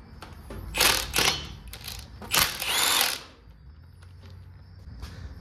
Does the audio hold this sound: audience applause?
no